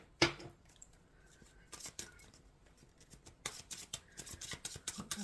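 Tarot cards being shuffled by hand in a quiet room, giving bursts of crisp riffling and papery flicks separated by soft pauses, close and fairly faint.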